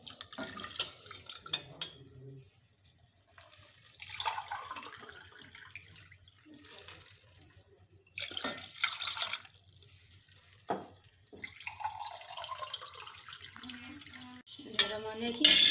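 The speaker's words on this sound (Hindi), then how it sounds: "अब इसमें मैंने 3 कप बड़े पानी के भर के डाल दिए।" Water is poured in bursts into a pot for making Kashmiri tea, several splashing pours and trickles separated by pauses, fairly quiet and close.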